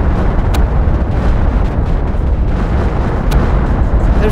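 Dense, continuous rumbling explosions from the Planet Crafter video game, a steady barrage of booms and bursts with a few sharper cracks standing out, loud and unbroken throughout.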